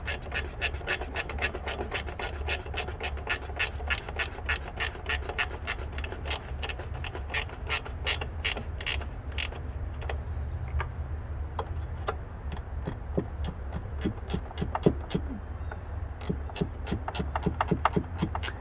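Repetitive ratcheting of a wrench spinning over a Kohler or Stihl 038 engine during repair, a steady run of sharp, evenly spaced clicks with a mechanical rasp underneath, close and continuous with a brief pause midway.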